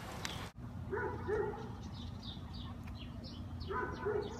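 A two-year-old female Alaskan Malamute gives short yips and whimpering whines in two bursts outdoors, fairly close but soft, over a steady low background hum.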